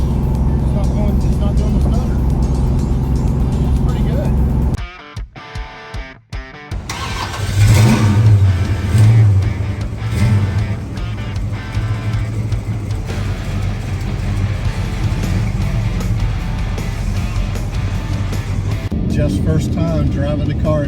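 A 1969 Dodge Charger R/T SE's big V8 engine rumbles and revs in deep surges, loud and close, no longer stuttering, with a brief dropout partway through and someone talking over it.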